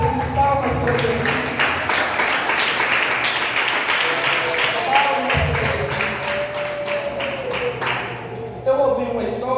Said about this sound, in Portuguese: Palmas para Jesus, palmas para Jesus.